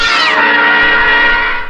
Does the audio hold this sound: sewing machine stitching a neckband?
no